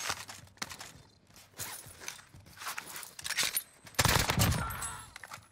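Gunfire in Call of Duty Warzone Season 6 gameplay comes as scattered sharp shots and short bursts, mixed with clattering movement and footsteps, louder toward the end.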